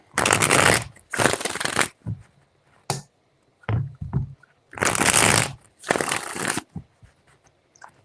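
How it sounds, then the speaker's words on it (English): A deck of tarot cards being shuffled in four loud, crisp riffling bursts, each a second or so long, with quieter taps and card handling between them, close up. "4 shuffles"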